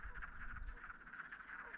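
Distant frogs croak in a continuous, rhythmic chorus near a beaver lodge, faint but steady, over low background rumble.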